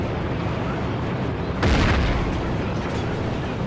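A single heavy explosion booms in the combat video game Battlefield, one sharp blast rising out of a constant rumble of battle noise and fading quickly.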